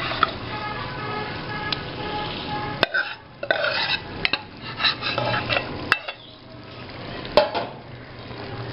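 Beef or mutton meat is stirred into masala in a cooking pot, with metal spoon scrapes and clinks against the pot over faint sizzling, close and uneven, several sharp knocks spaced through.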